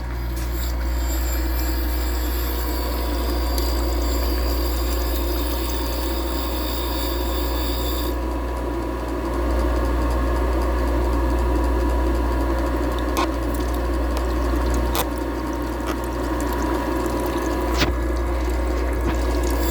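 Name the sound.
valve grinding machine stone being trued with diamond dresser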